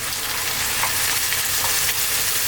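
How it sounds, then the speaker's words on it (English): Steady frying sizzle from a fish curry pan with potatoes as pureed tomato goes in, a dense continuous crackle with a few brief brighter spits, no voices. "Now we're going to add that pureed tomato"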